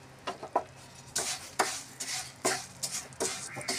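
Semai vermicelli fries in ghee in a pan while a utensil stirs and scrapes through it in irregular bursts over a faint background hiss.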